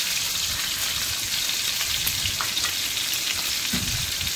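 Onion, garlic, green chilli, ginger and tomatoes for masala macaroni fry in a pan with a steady, close sizzle and occasional soft stirring scrapes, and no voices.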